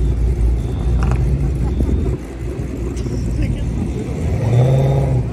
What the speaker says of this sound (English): Listen to the idle on that.